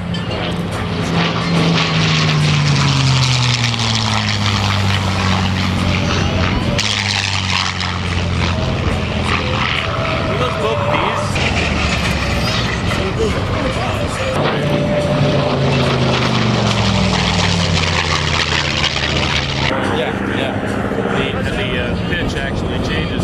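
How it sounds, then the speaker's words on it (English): A WWII fighter plane with an inline 12-cylinder Merlin engine drones loudly and continuously at an airshow, its pitch sweeping down as it passes, while a commentator talks over it throughout. "The inline Merlin engines, the 12-cylinder engines, a whole different sound than the big round"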